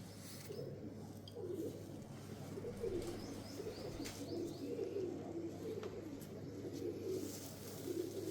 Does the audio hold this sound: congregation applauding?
no